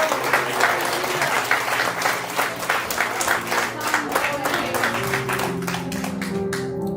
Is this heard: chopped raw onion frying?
no